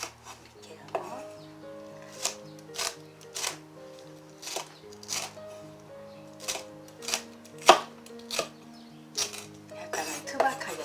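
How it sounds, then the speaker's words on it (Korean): Knife roughly chopping red and green chili peppers on a cutting board for a spicy seafood stew: sharp, irregular knocks spaced about a second apart, over faint background music. "약간은 투박하게 썰어줍니다. 빨간 고추도요."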